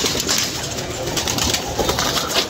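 Captured pigeons coo repeatedly at night in soft, rolling calls over a dense, noisy background, close to the listener and without speech.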